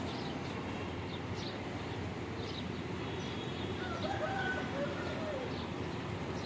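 Breeder pigeons cooing in a loft: soft low coos and faint chirps over a dense, steady background murmur, fairly distant and quiet.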